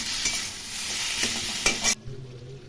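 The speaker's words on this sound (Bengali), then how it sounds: "ভাজা ভাজা করে নেব সবজিগুলো।" Mixed vegetables coated in a paste of ginger, chilli, tomato, radhuni and white sesame fry and are stirred in a pan for a spinach curry, with steady sizzling and scraping stirs that stop abruptly near the end.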